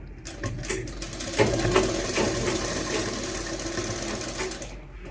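A sewing machine runs continuously, stitching the side seam of a lined kurta, its rapid, steady mechanical whir close and moderately quiet before cutting off near the end.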